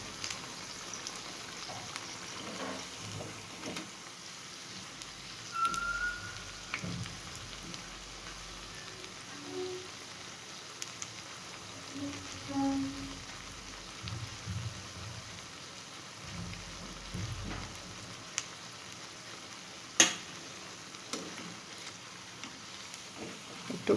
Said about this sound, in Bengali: একটু উল্টে পাল্টে চতুর্দিক ভালোভাবে ভাজতে হবে, যেন সমানভাবে ভাজাটা হয়